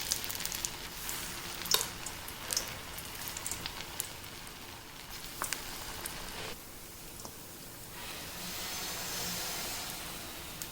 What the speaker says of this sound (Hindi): अब गर्म तेल में हम पकोड़े डाल देंगे।